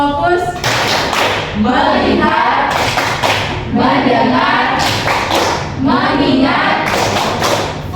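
A school class does the rhythmic clapping game tepuk fokus, loud close group claps landing in regular bursts alternating with children's voices chanting between them.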